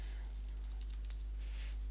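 An email address is typed on a computer keyboard in a quick run of close, crisp key clicks with a few brief pauses, over a low steady background hum.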